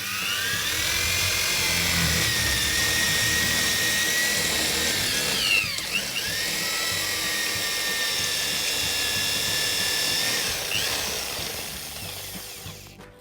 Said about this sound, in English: Alright, so I'm gonna start drilling right now and show you how to do it.